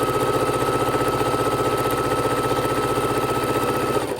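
Sewing machine chain stitching quilt squares for half-square triangles, a steady rapid mechanical whir with regular stitch pulses running continuously and close up, no talking.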